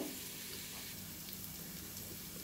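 Ginger garlic paste fries in a pan for a drumstick egg tomato curry. A steady, close sizzle with a dense hiss runs evenly throughout, and no one speaks.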